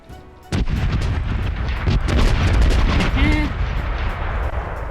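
Ship cannons fire a broadside in the pirate video game Corsairs Legacy, with a sudden loud boom followed by a dense, rumbling barrage of overlapping shots and booms that stays loud for several seconds.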